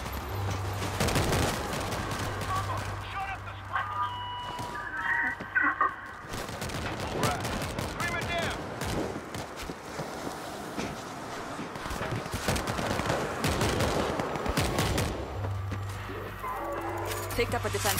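Automatic turret gunfire in the World War Z video game, rapid sustained bursts of shots over a busy game soundscape, with voices talking over the shooting.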